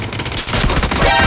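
Gunfire in the PUBG: Battlegrounds video game, a dense burst of rapid shots filling the short stretch, with game noise underneath.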